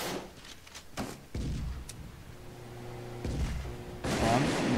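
Grenades burst in the zombie mode of the shooter Contra City, several sharp booming blasts with ringing tails, one near the start and more later, with a voice heard among them.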